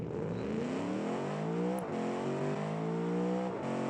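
A Cadillac CTS-V wagon in the BeamNG driving game launches down a drag strip, its engine revving hard and climbing through rising pitches with brief dips at each gear change, loud and continuous with no talk.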